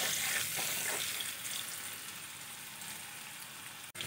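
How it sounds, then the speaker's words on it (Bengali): Potatoes fry in a pan with a soft, continuous sizzle that fades slightly midway. A brief utensil knock comes near the end, and no one speaks. "আলুগুলো আমি লাল লাল করে ভেজে নিয়েছি"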